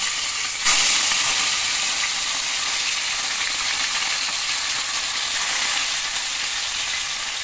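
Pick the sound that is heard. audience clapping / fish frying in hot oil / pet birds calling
fish frying in hot oil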